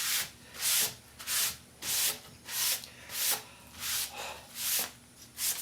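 Cloth soaked in lacquer thinner scrubbing the old finish off the wooden cabinet of an antique RCA AR-812 radio, with steady back-and-forth rubbing strokes close up in a regular rhythm.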